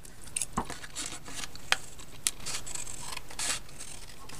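Scissors trim a strip of cardstock for a handmade greeting card, producing a few quiet, close snips and paper rustles at irregular intervals with no talk.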